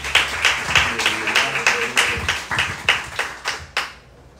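A church congregation claps in praise, a run of distinct, rhythmic group claps roughly twice a second that is close and fairly loud, faint voices beneath, before stopping abruptly near the end.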